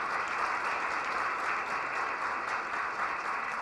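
An audience at a university lecture marking a school anniversary claps to welcome a guest speaker, a continuous wash of many hands that holds steady for several seconds with no talk over it.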